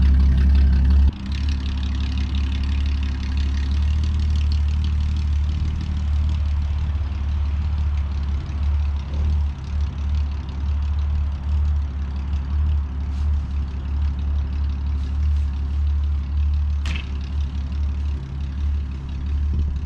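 An old abandoned Ford car engine idles after cranking, a deep steady rumble that runs unbroken and fairly loud for the whole stretch after a brief dip at the start, with no talking.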